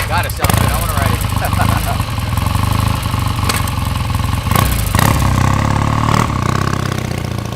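1974 Triumph T140V Bonneville 750 parallel-twin motorcycle firing up and running, a loud close throbbing idle with several sharp blips of the throttle across the clip.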